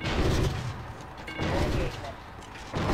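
Missiles fire in the Call of Duty: Ghosts video game: rumbling booming launches and blasts that swell and fade in waves, with someone talking over them.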